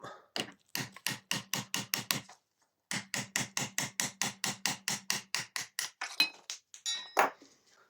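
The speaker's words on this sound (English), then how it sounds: "just going to hammer it out" Rapid metallic hammer strikes ring out in quick, even runs of blows as a drive shaft bushing is knocked out of a Honda HRS 536 mower, a brief pause between series, close and sharp.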